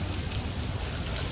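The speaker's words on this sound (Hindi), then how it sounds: "बारिश ही नहीं रुक रही भाई, बारिश ही नहीं रुक रही।" Steady, continuous rain pours down outdoors before a cricket match, a dense even hiss with no break and no voices.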